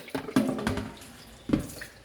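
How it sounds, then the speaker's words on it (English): Apple cucumber juice is poured into a big white pan in short splashy gushes and trickles, close and fairly quiet, with pauses between pours. "I'm going to use my big white pan here and just start pouring it in there"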